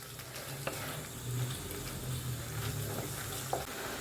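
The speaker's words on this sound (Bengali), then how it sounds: "কিমাটা দিয়ে দিচ্ছি, দিয়ে একটু কষাবো।" Minced meat sautés in a hot pan with a steady sizzle, broken by scraping and stirring clatters.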